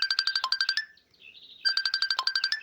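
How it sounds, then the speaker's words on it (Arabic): Messenger video call ringtone: rapid bursts of bright chiming pulses, a short pause with a soft rising tone, then the pulsing chime resumes, loud and close. "النغمة دي الخاصة بأي حد بيعمل معاك مكالمة فيديو"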